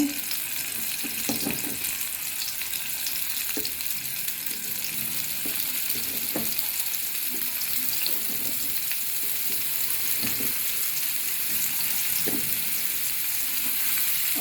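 Pointed gourd pieces mixed with egg frying in a pan, a steady loud sizzle with occasional crackles and soft knocks as pieces are placed, continuous throughout with no talk.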